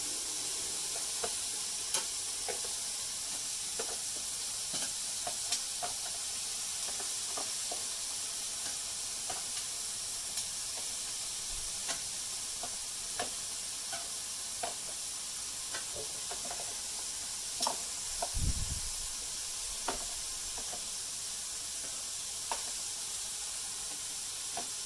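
Sweet potato pieces sizzle and hiss steadily on a hot Weber barbecue, with occasional faint scrapes and knocks as they are stirred around.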